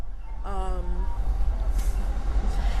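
A steady low rumble of a moving train carriage fills the ride, with a brief tonal horn or whistle-like sound early on and constant rolling noise throughout.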